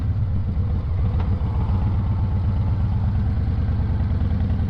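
A 2025 Harley-Davidson Breakout with aftermarket slip-on exhausts idles close by, a deep, loping, steady rumble with an even throb that holds for nearly five seconds without talk.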